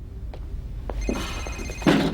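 A cell phone rings indoors with a short electronic ringtone, brief trilling bursts over a steady room background, ending in a louder burst near the close.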